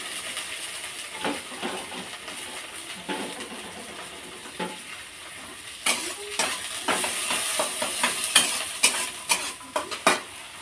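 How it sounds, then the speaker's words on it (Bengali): Onion frying in oil in a pan with tomato and green chili, with a soft steady sizzle under repeated clinks and scrapes of a utensil stirring against the pan, busier toward the end. "তো পেঁয়াজটা একটু তেলে নেবে, টমেটো কাঁচা লঙ্কা দিয়ে দিচ্ছি।"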